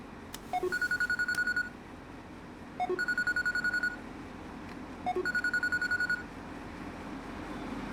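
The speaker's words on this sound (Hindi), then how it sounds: "तुम्हारा फोन बज रहा है।" A mobile phone rings with a repeating electronic trill, three bursts of rapid beeps separated by short pauses, clear and fairly close over a low engine rumble.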